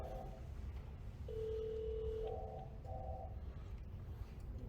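A telephone rings at a police department: a steady electronic tone, then a few short paired-tone bursts, moderately loud over a low background rumble.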